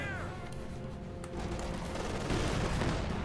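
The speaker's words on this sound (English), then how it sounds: "Incendiary is going off." An incendiary grenade goes off amid Company of Heroes 2 battle noise, its burst buried in a dense, continuous wash of gunfire and explosions.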